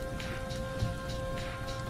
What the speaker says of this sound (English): That thunder is not real, guys. It is not raining outside.